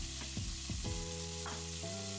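Artichoke pieces, cut into sixths with a bit of stem, dropped into a pan of vegetables over medium-low heat, giving a few clattering drops and stirring scrapes over a soft steady sizzle, with no talk.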